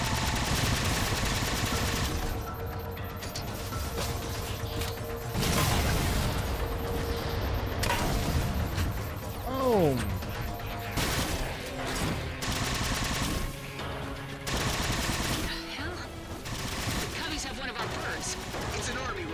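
Rapid automatic gunfire in Halo Spartan Ops rattles in dense bursts, mixed with heavy booms and whooshing effects. Intense and close throughout, with a person's voice talking over parts of the fighting.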